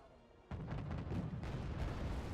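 Units trading fire in the war strategy game Wargame: AirLand Battle. A low ambient hum suddenly breaks into a sustained clatter of overlapping gunshots and artillery booms, with sharp bursts cutting through a dense, continuous barrage.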